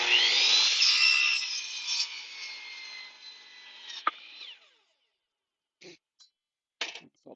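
A power saw blade rips through a wooden board for about four seconds, a loud whining cut that fades out, followed by silence and a few short knocks and clatters.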